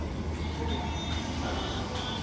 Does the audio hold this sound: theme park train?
yes